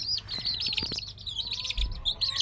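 Young chicks peep and chirp rapidly in a backyard enclosure beside their broody mother hen, a busy, close, overlapping high twittering with no voices.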